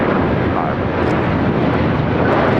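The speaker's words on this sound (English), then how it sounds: "This is United Airlines Flight 1331 taking off to Newark" United Airlines Flight 1331, a jet bound for Newark, taking off at LAX: a loud, steady, broadband engine roar with rushing noise that holds constant throughout.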